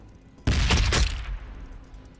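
A grenade blast in a Warhammer 40,000 battle between Astra Militarum and Orks: one sudden, loud, close explosion with a rumbling burst that decays over about a second.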